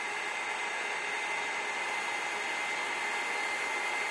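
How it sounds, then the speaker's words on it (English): A heat tool used for heat embossing a card, giving a steady whooshing blower hiss at constant level, close and unbroken, with no voices. "it will go faster and faster as you heat emboss because your heat tool is nice and hot"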